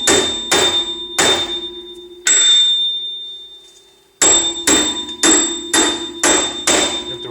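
Repeated heavy hammer blows pound a rear hub off its plate on a 2009 Toyota Corolla, about ten sharp metallic strikes in bursts with a short pause midway, loud and close with ringing decay.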